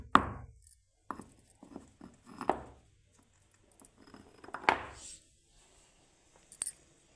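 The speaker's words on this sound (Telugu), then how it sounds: "ఒకటి ఇలాచీ దంచాలి" Cardamom pods are pounded for tea in a quiet kitchen, giving a handful of sharp, irregular knocks separated by pauses, with a couple of lighter taps near the end.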